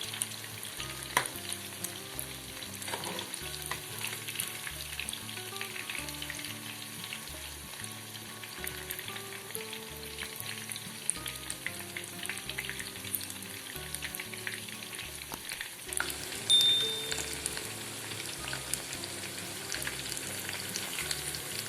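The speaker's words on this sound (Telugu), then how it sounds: "మీడియం ఫ్లేమ్లో పెట్టి మనం ఫ్రై చేసుకోవాలి." Chicken 65 pieces sizzle steadily in hot oil over a medium flame, a continuous close crackling fry with occasional stirring clatter, no voices.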